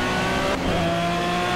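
An Aston Martin V12 Vantage GT3 races in the Project Cars video game, its V12 engine screaming loud and steady at high revs, with a brief dip around a gear change before the drone resumes.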